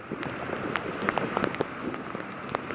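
Soft patter of rain falling on a surface during white water kayaking in Costa Rica, scattered drops tapping over a quiet, steady background.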